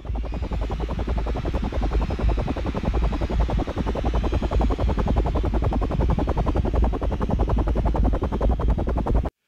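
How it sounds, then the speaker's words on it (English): Strange warbling, helicopter-like intro sound effect from a 1989–1990 concert tour, a dense, steady rhythmic fluttering throb with low rumble, loud and continuous throughout with no voices. "For the Pump Tour in 1989 and 1990, they used a strange warbling sound,"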